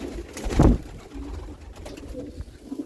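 Soft homing pigeon coos rise briefly in a loft, with a louder burst near the start, over a quiet room with faint shuffling and distant noise.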